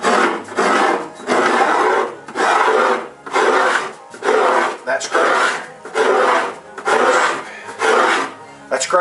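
Rhythmic rasping strokes of a cabinet scraper on wood, about eight steady passes with brief pauses between, close and fairly loud.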